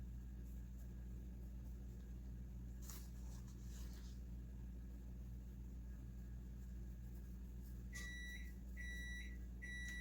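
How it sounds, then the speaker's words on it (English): A kitchen oven beeps on reaching temperature: three short electronic beeps sound near the end over a steady low hum. "the oven's making noise. Just got up to temperature."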